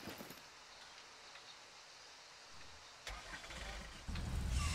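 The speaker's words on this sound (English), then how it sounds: "So you hit the button, you get the car, right?" A car is summoned and its engine starts in the fishing video game Call of the Wild: The Angler, rising from faint ambient rain-like noise into a louder rumbling idle near the end.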